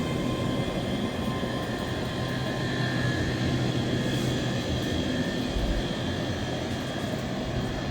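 A ScotRail passenger train, a six-car 14:12 service from Dunblane to Edinburgh Waverley, pulls out of the station. It makes a steady, broad rumble with a continuous engine drone that holds an even loudness throughout, and no voices can be heard.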